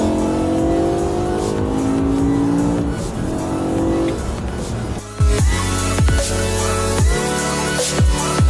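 A BMW M5 with a V10 and modified exhaust accelerates hard with loud, close engine noise. Revs climb through repeated gear changes, each marked by a sharp dip and a fresh rising howl.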